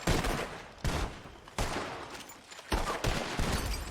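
Gunfire during shooting practice in RedM, a run of loud close shots in uneven bursts with short gaps and echoing decay, no voices over them.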